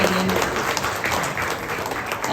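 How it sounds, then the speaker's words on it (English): Audience applause at a cricket meet and greet, a steady dense wash of clapping throughout, fairly loud and close with no talk over it. "Round of applause"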